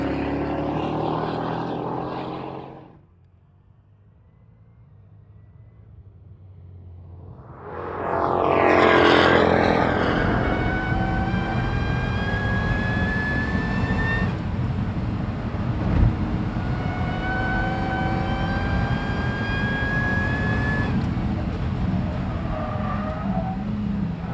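Jaguar C-X75 mid-engine hybrid concept supercar lapping a test track, rising from near quiet to a loud sustained engine wail with climbing whining tones as it passes close, then holding a steady roar.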